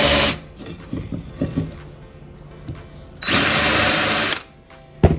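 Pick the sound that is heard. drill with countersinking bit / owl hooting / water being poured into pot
drill with countersinking bit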